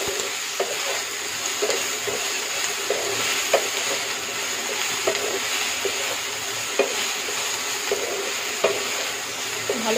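Salted eggplant frying in a pan gives a steady sizzle throughout, with light scraping of a spoon as it is stirred at close range and no talking.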